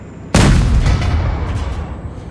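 Heavy weapon fire in the mobile battle royale game PUBG Mobile: one sudden loud boom that cuts in sharply, then a long rumbling decay that stays strong and slowly fades.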